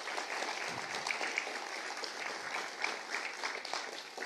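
A congregation in church applauds in a continuous, crowded patter of clapping that stays even and moderately loud for the whole few seconds.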